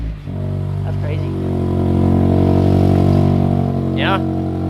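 A deep Mazda MX-5 Miata (ND) engine rumbles and rises in a throaty rev close by through a newly installed ISR circuit-spec exhaust, with a voice speaking briefly over the exhaust note.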